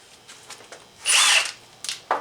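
Power tool driving down reverse-threaded axle bolts on a GM 9.5 14-bolt axle, a single loud high-pitched whirring burst of about half a second, then brief softer taps and clicks.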